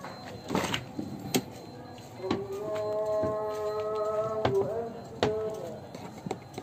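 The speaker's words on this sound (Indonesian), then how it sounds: "Jadi kalau kita membuka pintunya, dia berbunyi." A squeaky door on a Xenia car swinging open, giving a drawn-out, tonal creak over about three seconds amid a few knocks, close by and with no talking.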